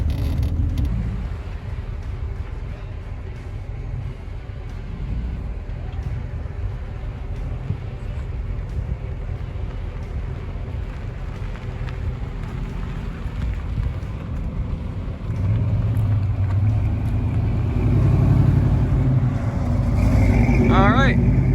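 A Ford Falcon carrying a Lexus body, driven into a group of parked cars at a car event, its engine a constant low rumble throughout that swells louder near the end as it pulls up to park.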